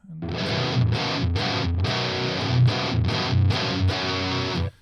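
A heavily distorted electric guitar through the boost drive of the Neural DSP Archetype Nolly plugin playing a chugging riff in repeated bursts, thick and saturated with punchy low end, no voices.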